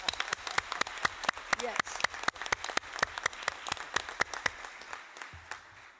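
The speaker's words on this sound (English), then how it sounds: "I want an applause for her, please." A small group claps steadily in sparse, separate hand claps for several seconds at a UN-Habitat Assembly closing ceremony, gradually thinning out toward the end.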